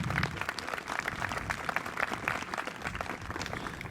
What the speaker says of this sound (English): A round of applause for our Irish representatives